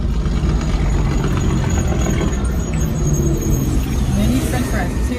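Pontiac G8 GT with a 500 hp engine, heard from inside the car in traffic: a steady low engine rumble runs throughout, with people talking over it.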